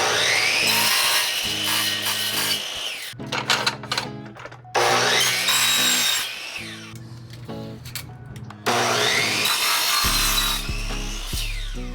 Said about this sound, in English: To cut them, we're just gonna be using a chop saw,